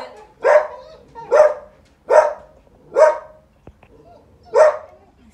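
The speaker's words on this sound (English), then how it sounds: "So when they start barking like this, now they're barking at me, kind of." Several dogs barking at a person in a training session, five loud, evenly spaced barks close by with short pauses between them, no talk.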